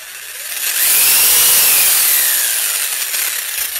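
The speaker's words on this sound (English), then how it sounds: "this jigsaw is Bosch. Seriously good stuff." A Bosch jigsaw cuts through a metal drum with a loud, steady rasping whine that builds up and holds for several seconds, alone and close up.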